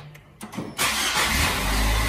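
A car engine cranks briefly with a couple of starter bursts, then catches and settles into a loud, steady idle close by.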